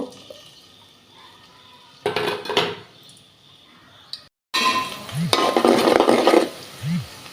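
Onion and green chilli fry in a pan, a steady sizzle broken by bursts of stirring and scraping, growing louder and busier toward the end, with brief speech in the background.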